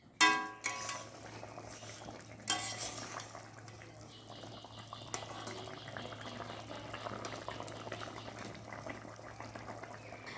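A pot of fish curry simmering on the stove, a steady low bubbling hiss with a sharp clatter near the start, continuing evenly at moderate distance.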